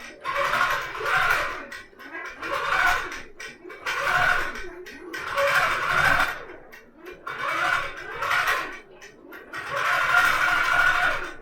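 A longarm quilting machine on a rolling rail frame stitches an edge-to-edge pattern along a quilt's edge, its motor whirring loudly in repeated surges about every two seconds, with no talking.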